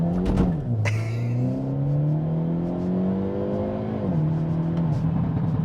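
A Hyundai Elantra N accelerates hard, its engine note climbing steadily through gears with a shift and a sharp exhaust crackle, loud and close from inside the car with no talk.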